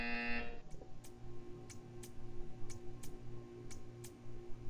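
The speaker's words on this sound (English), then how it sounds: "You will hear a buzzer." In the Portal 2 video game, a sustained electronic buzzer tone sounds briefly at the start, then gives way to a steady series of sharp, evenly spaced ticking clicks over a low hum.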